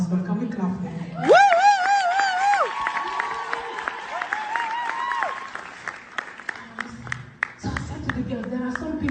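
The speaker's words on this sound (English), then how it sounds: "Can we clap for him?" A church congregation claps during a Sunday sermon, with a sustained burst of applause mixed with chuckles and voices. Tonal, sung or spoken sounds ride above the clapping, and the applause stays moderately close throughout.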